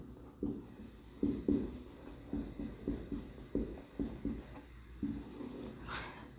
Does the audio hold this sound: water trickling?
no